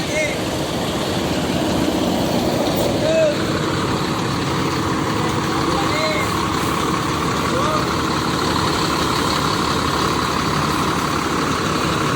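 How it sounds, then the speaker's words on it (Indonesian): Mercedes-Benz 1526 intercity bus engine idling steadily before departing Palembang for Medan, a continuous low rumble with a faint hum, with people talking nearby over it throughout. "Ini bisnya sebentar lagi mau melanjutkan perjalanan menuju Medan ya ternyata teman-teman."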